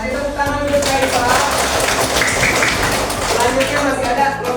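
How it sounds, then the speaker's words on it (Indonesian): A fourth-grade class claps for a pupil, a steady burst of many hands lasting the whole moment, with children's voices chattering over the clapping. "kasih tepuk tangan untuk Raifa"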